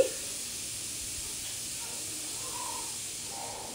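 Vegetable biryani masala frying in a pan over medium to low flame gives a steady, soft hiss with faint crackle throughout, fairly quiet and with no talk.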